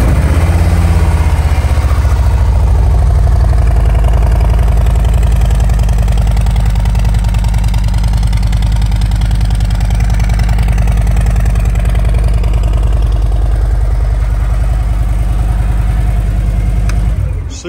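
A 2018 Harley-Davidson Ultra Limited motorcycle with an upgraded exhaust, about 20,000 miles on it, idles steadily up close, a loud, deep, rumbling throb that holds even for the whole stretch and cuts off at the end.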